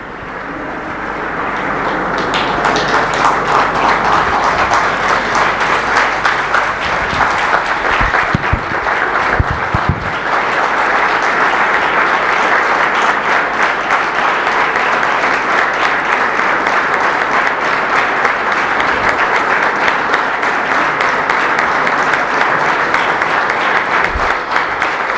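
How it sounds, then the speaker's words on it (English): An audience at an annual conference gives sustained, loud, dense applause that builds quickly and carries on evenly for over twenty seconds. "Let the applause continue."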